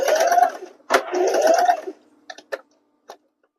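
A sewing machine stitches corduroy bag pieces in two quick whirring runs with a rising pitch, followed by a few sparse mechanical ticks and clicks as it stops.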